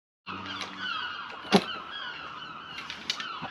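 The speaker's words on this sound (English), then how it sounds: "The seagulls are very noisy." Seagulls calling near a campervan while an awning is fitted, a few loud honking cries over a constant background murmur, with one sharp squawk standing out in the middle.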